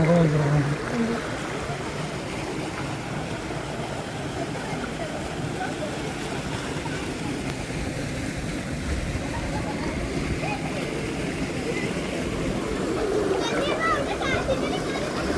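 Rushing water from Vellarimedu mountain stream and waterfall in Kollengode, Palakkad, during monsoon, a steady broad roar, with people and children talking faintly underneath.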